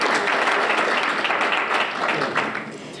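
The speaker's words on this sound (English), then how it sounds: "please give her a round of applause as well" At a university Women's Day celebration, an audience breaks into applause, a thick, continuous roar of clapping hands that stays loud and close for the whole moment before easing slightly at the end.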